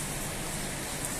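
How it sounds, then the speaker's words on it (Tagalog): Dense, steady roar of heavy rain mixed with strong gusting wind strong enough to blow off metal roof sheets, a continuous broadband wash without pauses. "Malakas yung ulan at saka hangin."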